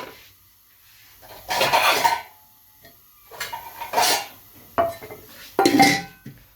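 A lid is set on a clay cooking pot (handi) holding beef and bottle gourd, giving several close, hollow scraping clatters in separate bursts with quiet gaps between them.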